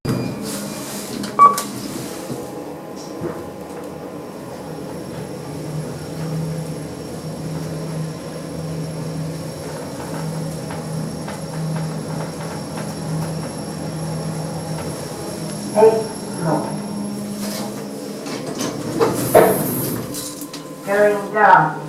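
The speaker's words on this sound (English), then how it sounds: "let's first ride the Ecodisc on the right" An Ecodisc lift runs through a ride with a low, steady motor hum and faint high tones, while soft clicks and thumps of the car and doors rise near the end.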